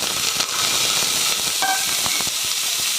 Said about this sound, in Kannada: ಇಷ್ಟು ಒಗ್ಗರಣೆಗೆ ಹಾಕ್ತೀನಿ